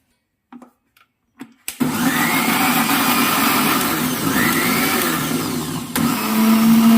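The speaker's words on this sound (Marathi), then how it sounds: "हे मी मिक्सरला फिरवून घेते." A mixer grinder blending a homemade skin moisturizer whirs into a steady, loud motor hum after a few brief clicks and bumps, running continuously to the end.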